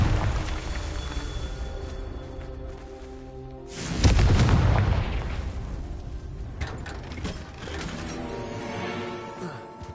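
Fiery spell blasts from the Confringo fire spell in the video game Hogwarts Legacy: a loud booming explosion bursts out midway, followed by smaller crackling impacts, over a steady ambient game background.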